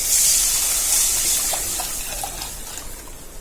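Tamarind water poured into a pan of tulsi rasam, a steady gushing splash that tapers off over a few seconds, close and alone.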